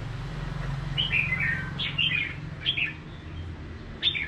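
Caged red-whiskered bulbuls at a Vietnamese bird keeper's home give four or five short, bright chirps spaced about a second apart over a low, steady background hum.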